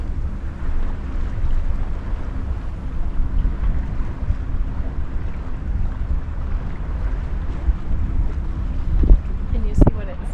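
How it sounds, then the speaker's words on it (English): A sailboat under way in protected waters, tacking upwind, with a steady low rumble of hull and water and buffeting wind noise throughout, and a brief louder splash or creak near the end. "it's just picking up us sailing."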